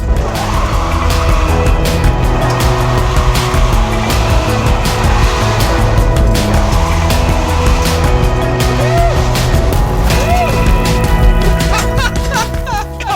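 Electric-converted BMW M3 spinning around with loud, continuous tire squeal and skidding, a brief whine of the electric motor blipping near the end, close and sustained throughout.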